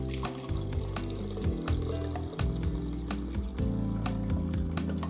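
Half a liter of liquid pours into a blender for bubble tea, a steady splashing gurgle with a few bubbling bursts, close and fairly loud, with no talk.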